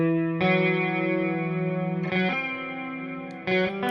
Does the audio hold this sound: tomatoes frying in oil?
no